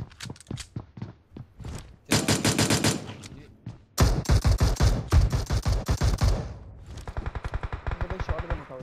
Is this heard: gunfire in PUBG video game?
yes